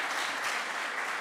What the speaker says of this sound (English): Yeah, it deserves applause.